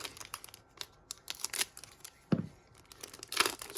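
Scissors snip open a foil trading card pack, close and crisp, with a few quick cutting clicks and crinkling wrapper sounds spread over a few seconds.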